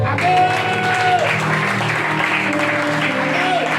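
A church congregation applauds the Lord in a dense, continuous burst of clapping, with a sung or spoken voice carrying over it.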